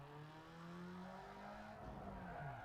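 The modified exhaust of a car in a video game revs in a low, rising and falling drone, with tonal engine pitch sweeping up and down, quiet and alone.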